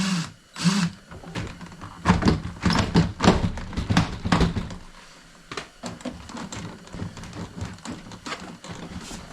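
Removing the door panel of a Jeep Cherokee: a close series of irregular thunks, knocks and plastic clatter as the panel is worked loose, with quieter scraping between the louder hits.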